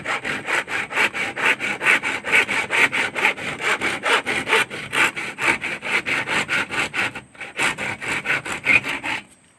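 Steady back-and-forth strokes of a handsaw cut through wood, rhythmic and close, with a brief pause near the end.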